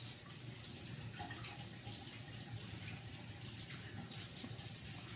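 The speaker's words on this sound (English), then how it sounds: "And I want to wash my hand again." Water running steadily from a kitchen tap while hands are washed during homemade pizza preparation, a soft, even splashing hiss lasting several seconds with no talk.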